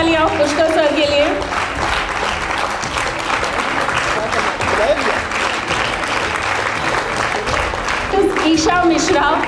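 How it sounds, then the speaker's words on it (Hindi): Loud, sustained applause from an awards-night audience in Lucknow as a healthcare company manager is called to the stage, with voices and a host talking over it at the start and end. "एक बार जोरदार तालियां पुष्कर सर के लिए"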